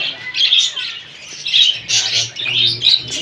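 Caged munia birds chirp and squawk in quick bursts of high, bright calls, close by and continuous with short pauses.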